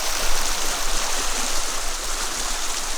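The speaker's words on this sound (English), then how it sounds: "the amount of water coming through here. It cannot cope." Floodwater rushes off a hillside in a steady, loud, broadband roar of flowing water, continuous with no talk over it.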